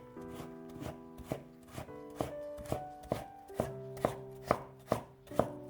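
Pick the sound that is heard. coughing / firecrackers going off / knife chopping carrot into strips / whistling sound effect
knife chopping carrot into strips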